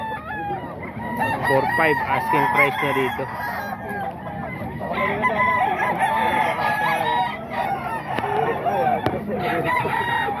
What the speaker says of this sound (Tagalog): manok to ni Boss Perry